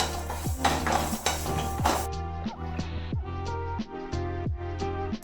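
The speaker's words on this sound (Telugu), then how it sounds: "కొంచెం వేగిన తర్వాత మెంతులు కూడా వేసుకొని 2 కలిపి దోరపదంగా వేగించుకోవాలి." Coriander and fenugreek seeds roast together in a pan, with a steady, close rattle and scrape of metal utensils against the pan and repeated clinks as they are stirred.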